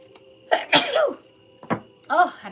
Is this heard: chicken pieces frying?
no